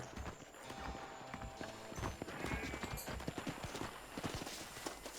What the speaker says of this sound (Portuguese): O cavalo foi pra lá de novo.